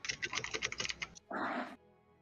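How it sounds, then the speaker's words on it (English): Rapid clattery keystrokes on a computer keyboard, close and fairly loud, followed by a brief burst of a rougher sound, with no talking. "your keyboard is just extra loud today"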